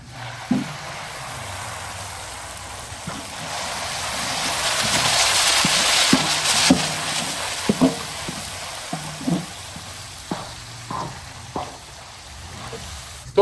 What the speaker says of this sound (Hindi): अब इसमें डालेंगे ये टमाटो कद्दूकस किया हुआ।